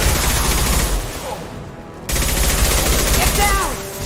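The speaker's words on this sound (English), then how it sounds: "Firing concussive shots!" Concussive shots firing in the video game Mass Effect Legendary Edition 2, a heavy burst of rapid gunfire and booming impacts, a short dip, then another loud volley with ringing tones, close and dense.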